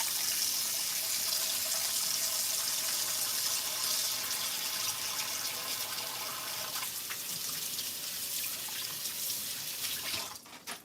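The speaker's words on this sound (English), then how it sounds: "I'm going to clean my hands now." Tap water running steadily into a kitchen sink while hands are rinsed free of sticky non-stick residue after making Rice Krispie treats, a soft continuous splashing that breaks up at the end.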